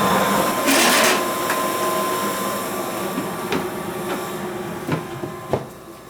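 A gas furnace burner lights and runs with a steady rushing roar, interspersed with sharp clicks and knocks from the unit during an annual service check.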